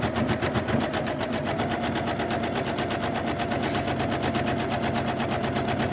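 Embroidery machine stitching a thick satin border on an in-the-hoop zipper bag, a steady fast mechanical chatter of needle strokes running continuously and loud throughout.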